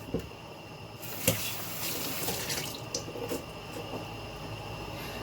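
Tap water runs into a sink while fruit is washed, a continuous moderate splashing with a few louder clatters and splashes from handling.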